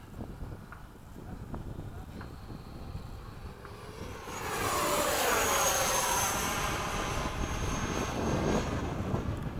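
An E-flite 80mm F/A-18D RC electric ducted-fan jet making a gear-down pass: a steady whine swells and rises as it comes closer and sweeps by overhead, loud and sustained to the end.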